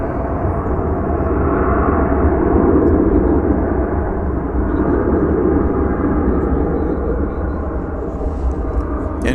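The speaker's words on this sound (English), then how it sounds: "You are looking at an Airbus A321. It is of the American Airlines brand, flight 2997." American Airlines Airbus A321 jet on American Airlines flight 2997, heard at DFW Airport as a steady, loud broadband engine roar with a low rumble that holds throughout, fairly near, with a voice talking over it.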